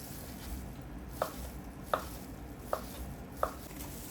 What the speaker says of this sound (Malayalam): ഒരു ചീസ് ഇതാണ് സ്ട്രിങ് ചീസും അപ്പോൾ ഇത് ചെറുതായിട്ടൊന്ന് കട്ട് ചെയ്തെടുക്കണം